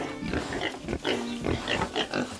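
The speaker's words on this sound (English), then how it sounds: "Happy pigs produce better quality meat, leading to the finest sausages." Several pigs on a farm grunt and oink in short, repeated bursts, fairly close and moderately loud, with no talking over them.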